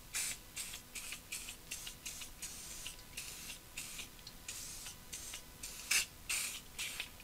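Repeated short hissing bursts of WD-40 penetrating oil sprayed onto a drill press, a steady series of quiet sprays in a workshop with no talking.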